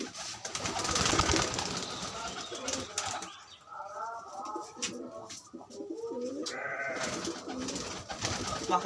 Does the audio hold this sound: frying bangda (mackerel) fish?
no